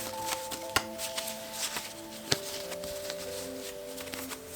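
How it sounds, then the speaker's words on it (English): Playing cards being shuffled, a few soft riffling bursts and sharp snaps close by, with quiet music humming underneath. "I'll pick another random card. This one. Shuffle."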